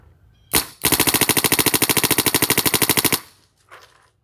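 A Kingman Spyder Aggressor XT paintball marker with a BL VIS loader fires one shot, then a fast, even string of about thirty shots lasting over two seconds, loud and close, followed by a faint trailing pop.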